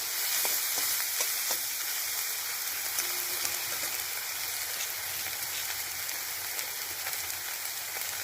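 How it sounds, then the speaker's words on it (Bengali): Eggplant and gima greens fry in a pan with a steady, dense sizzle and crackle, close and continuous, with occasional light stirring ticks. "একটা বেগুন কেটে রেখেছিলাম, সেটা দিয়ে দিচ্ছি। একসাথে ভালো করে ভেজে নেব।"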